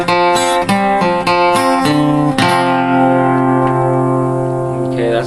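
Bar five played on acoustic guitar: a quick run of plucked and strummed notes that settles into a sustained, ringing chord, close and clear, with no talking.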